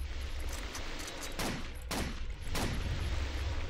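Rapid gunfire in the video game Blade of Agony, bursts of sharp repeated shots in quick succession with a low rumbling bed beneath, fairly faint overall.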